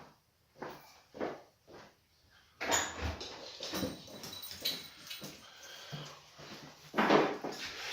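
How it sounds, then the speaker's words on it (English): Two family dogs at home whimper and whine in short, quiet bursts with pauses between, joined later by rustling and shuffling nearby. "these two dogs here"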